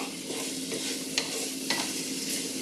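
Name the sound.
food frying in a pan over raised heat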